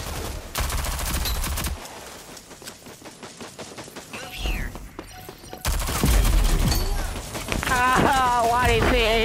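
Rapid SMG bursts and other gunfire crackle through a Rogue Company match, loud and close in repeated volleys, with game effects and voices mixed in.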